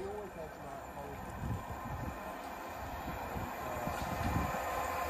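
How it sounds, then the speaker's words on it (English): Two Class 465 electric trains approach Hoo Junction on a London Cannon Street to Ramsgate service, a growing rail rumble and rhythmic clatter with wind buffeting the microphone as someone talks over it. "Now approaching two 465s to Lima 21 from London Cannon Street to Ramsgate."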